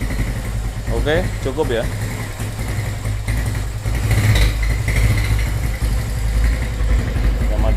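A Suzuki GL100 motorcycle, fitted with a 250 cc engine, idles steadily with a low continuous rumble while someone speaks briefly over it.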